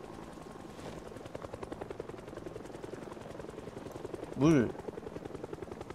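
A helicopter in the zombie-survival game Project Zomboid thumps with a rapid, steady rotor beat throughout, while a voice briefly speaks over it partway through.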